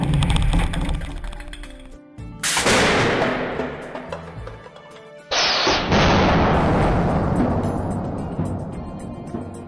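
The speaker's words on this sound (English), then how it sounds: "the impact of a 4 kilogram piece of hardwood travelling at speeds of up to 156 kilometres per hour" A 4 kg piece of hardwood is fired at up to 156 km/h into a Clearshield cyclone screen, giving two loud, sharp impact blasts a few seconds apart, each with a ringing, rattling decay afterward.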